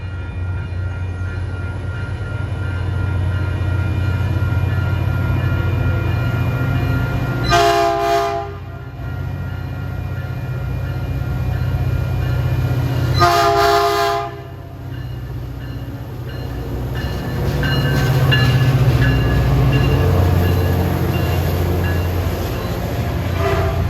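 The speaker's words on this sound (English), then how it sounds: "It's got F40 PH3C 922 on the point." A Caltrain commuter train, number 510 led by F40PH-3C diesel locomotive 922, rumbles steadily past trackside with a loud low engine drone, sounding two distinct horn blasts partway through.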